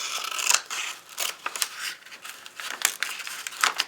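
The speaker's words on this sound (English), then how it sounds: "So I'm going to cut that down along the fold" Scissors snip along the fold of folded paper for a gratitude journal, with a series of close, crisp cutting strokes and light paper crinkling in an irregular rhythm, heard without talk.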